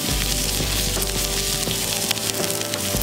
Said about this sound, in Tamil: எண்ணெய் சூடாயிடுச்சு. கறியை ஃப்ரை பண்ணுறதுக்கு கொஞ்சம் வெங்காயம்,